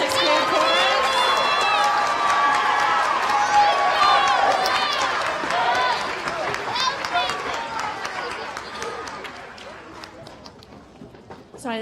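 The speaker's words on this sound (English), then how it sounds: "One more round of applause for our amazing 5th and 6th grade chorus." Applause after a 5th and 6th grade chorus performance at an elementary school winter concert, heavy at first beneath excited children's voices and cheering, then gradually thinning and fading toward the end.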